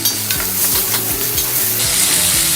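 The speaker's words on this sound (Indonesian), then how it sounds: "Kemudian kita masukkan daging ayam ke dalam wajan." Chicken pieces frying with garlic in a hot wok, a loud, continuous sizzle with repeated stirring and scraping strokes throughout, close up and with no talking.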